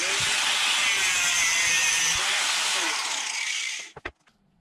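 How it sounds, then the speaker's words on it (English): A car oil line hose being cut during a turbo install on an RB20DET engine, with a steady close hissing, grinding cut for about four seconds, ending abruptly, followed by a couple of brief knocks. "We'll cut our oil line first, so we'll cut about in the middle of the tape."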